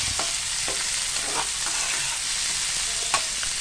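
Potatoes frying in mustard oil in a wok make a steady, close sizzle, broken by scattered scrapes and taps of stirring, with no talking.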